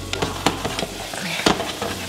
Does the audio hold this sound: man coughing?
no